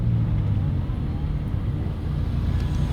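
A McLaren at a busy car show pulls away, its engine a steady, deep rumble that holds at an even level throughout, with no voices standing out.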